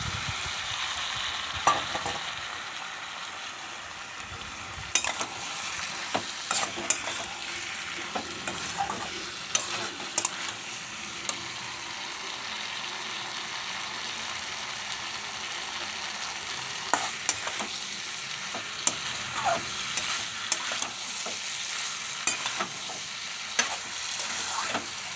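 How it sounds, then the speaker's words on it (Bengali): Shrimp tossed into a hot pan with green jackfruit sizzle steadily while a spatula stirs and scrapes, with intermittent sharp clicks and taps against the pan over a continuous frying hiss. "এই যে হালকা করে ভাজা রয়েছে চিংড়ি মাছটা, এই মাছটা দিয়ে দিলাম।"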